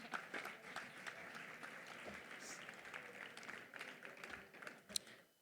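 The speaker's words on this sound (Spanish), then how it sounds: "Un aplauso, por favor." Audience applause at the Gastrónoma 2023 gastronomy awards ceremony, faint and distant, with dense clapping lasting about five seconds before tapering off.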